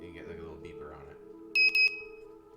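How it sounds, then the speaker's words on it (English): A small electronic buzzer on a soldered circuit kit gives two short, loud, shrill beeps in quick succession after some talking. "you get like a little beeper on it"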